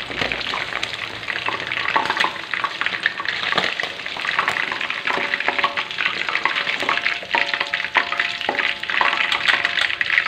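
Steady, close sizzling and crackling of chicken frying in hot oil, continuous and fairly loud, with occasional stirring clinks and no speech.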